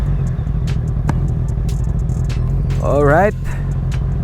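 A Honda CB650R 650cc motorcycle rumbles steadily while being ridden, a constant low engine drone with wind noise, then a brief rev near the end; a rider speaks briefly over it.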